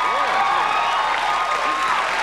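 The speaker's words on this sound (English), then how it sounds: "Now, they're clapping for the film." A television talk-show studio audience applauds and cheers for a film, a dense, loud, continuous wash of clapping with voices faintly mixed in.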